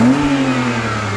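A BMW E36 328i convertible's engine runs steadily and loud up close, with a brief rise in revs at the start before settling into an even drone. No one speaks.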